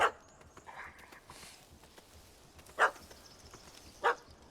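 A dog in The Witcher 3 barks in short sharp yaps, one at the start and two more a few seconds apart, moderately close over a low, steady game ambience.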